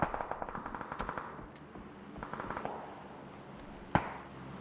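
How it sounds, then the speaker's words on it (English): Rapid spray of automatic M4 rifle fire in a PUBG match, dense bursts of close, loud shots with brief pauses and one sharp crack near the end. "3x spray on the M4."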